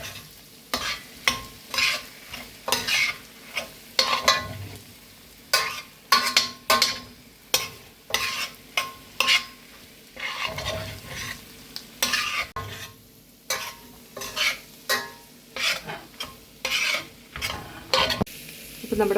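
A spoon scrapes and stirs pork roast with spices in a hot pan, repeated scraping strokes over a low sizzle of frying meat, close and steady with no talking.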